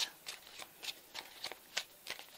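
A 36-card deck of cards shuffled and handled in a quiet room, giving a run of about eight crisp riffling bursts in a steady rhythm, close up and soft.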